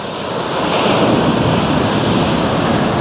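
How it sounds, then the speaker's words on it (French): Ocean waves run up a damp beach on an island, a loud, continuous surf wash mixed with heavy wind buffeting the microphone, swelling slightly and then holding steady with no voices. "Voilà, les vagues remontent assez haut, vous voyez."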